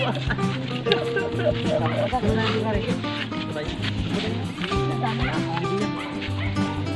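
A dog barks repeatedly amid a busy, continuous mix of background noise and voices, with some whimpering yips mixed in.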